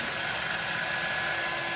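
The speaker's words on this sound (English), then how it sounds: "Okay, there's my timer." A kitchen-style timer going off, a continuous high electronic ringing that fills the short moment loudly and alone.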